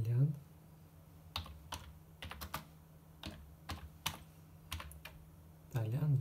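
Keys clatter on a computer keyboard in a few short bursts of separate clicks, close and distinct, with quiet gaps between the bursts and a faint hum underneath.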